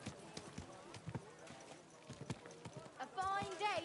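Horse hooves clip-clop in a steady, fairly quiet rhythm under a voice as a merchant calls out, with a brief higher animal-like cry near the end.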